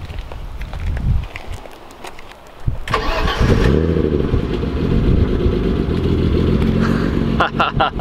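A 1989 BMW E30 325ix with a new exhaust cranks and fires up loudly partway through, then settles into a deep, steady idle rumble close by, with people talking before and during.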